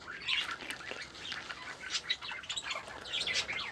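A newly hatched budgerigar chick chirps close by with thin, high, repeated peeps coming in short clusters over a quiet background.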